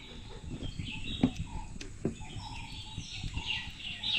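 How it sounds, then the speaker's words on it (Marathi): Faint birds chirping and twittering in the distance over a steady outdoor ambient hum. "पक्ष्यांचा किलबिलाट बघू आम्ही कसा मस्त ऐकायला आहे"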